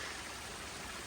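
Waterfall water flows on a mountain hiking trail, a steady broadband rushing hiss with no breaks, fairly faint and close.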